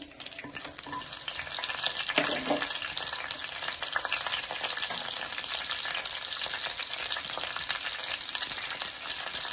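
Tempering seeds and green chillies fry in hot oil in a kadai for a spinach and garlic dish, a dense continuous crackling sizzle with faint stirring and no speech.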